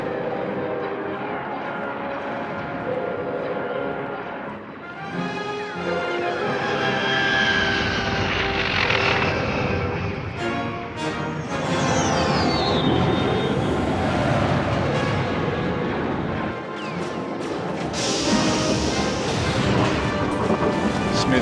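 A Millennium Falcon–type spaceship lands in Star Wars: The Old Republic, a loud, continuous roaring rumble with rushing, whooshing swells that rise and fade over about twenty seconds, with no talking.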